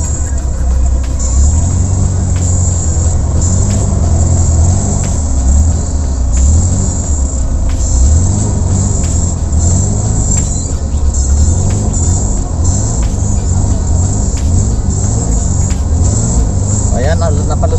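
A vehicle rolls through floodwater in Marikina, a steady low engine rumble with sloshing water around it, continuous and close, while someone talks over it throughout.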